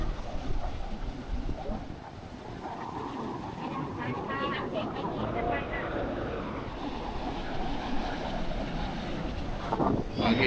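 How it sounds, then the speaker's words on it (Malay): Steady wind roars against a Yamaha PG-1 motorcycle riding along the seaside near a beach, a loud, constant broadband rush that stays even throughout with no clear breaks. "Angin dia memang constant wind."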